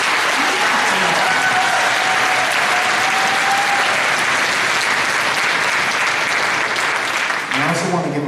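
An audience at a high school spring orchestra concert breaks into sustained applause, a dense wash of clapping from a large crowd that continues steadily without talk.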